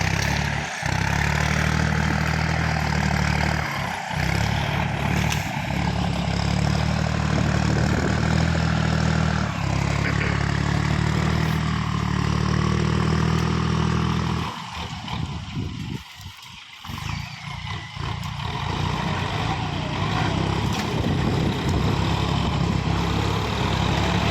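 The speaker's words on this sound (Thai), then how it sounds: "เสียงนี่นิ่มแห้งครับสี่สูบเทอร์โบ" A four-cylinder turbo tractor engine idles with a steady, close, low rumble that dips briefly partway through before settling back to an even drone.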